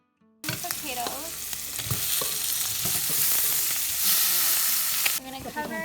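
Potatoes fry in hot oil with saltfish and onion, a steady loud sizzle starting abruptly and holding for several seconds, with scraping stir sounds and occasional pops.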